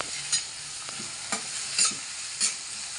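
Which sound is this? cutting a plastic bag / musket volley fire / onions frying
onions frying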